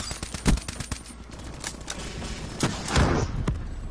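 Gunfire in the shooter game Black Ops 3 comes as a rapid string of sharp shots, with a few heavier booming bursts standing out over a busy battle background.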